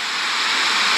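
Water is poured into batter for valakka pajji in a village kitchen, giving a short, loud, steady splashing hiss with no talk.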